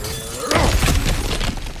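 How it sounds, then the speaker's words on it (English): Cracked ground smashed open in God of War Ragnarok: a sudden loud shattering crash of breaking earth and debris at close range, followed by scattered crumbling, with no voices. "back to smashing through things for fun and profit"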